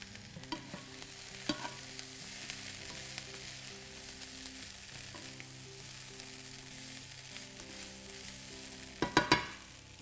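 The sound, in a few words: onions, garlic and sage frying in a pan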